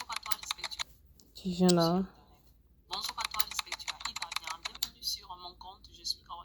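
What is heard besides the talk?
keyboard typing sound effect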